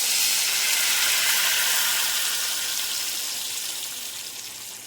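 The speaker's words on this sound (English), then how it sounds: "So I have my broth right here, and I'm going to pour it in." Chicken broth poured into a hot pot of vegetables, setting off a bright, steady hiss and sizzle of steam that slowly fades over the clip with no talking.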